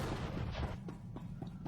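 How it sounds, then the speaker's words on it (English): Random explosions and booms aboard a starship in the video game Star Wars: The Old Republic, a string of muffled low thuds, several close together, over a constant rumbling background. "The traditional explosions randomly occurring."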